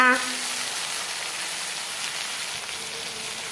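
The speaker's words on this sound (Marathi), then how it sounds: "मस्त अशी बारीक मिरचीचा ठेचा कुटून घ्यायचा आणि छान तेलात परतून घ्यायचा" Crushed green chili thecha sautéing in oil for a village-style fenugreek greens dish, giving a steady, close frying sizzle that holds evenly throughout with no talk over it.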